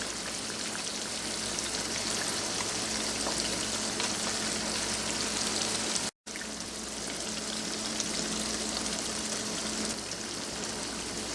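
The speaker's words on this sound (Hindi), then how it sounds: "ये फ़िश डाल लेते हैं। ये फ्राई फ़िश है।" Fried fish pieces sit in a simmering masala curry, making a continuous rain-like sizzle and bubbling that holds steady with a short break partway through.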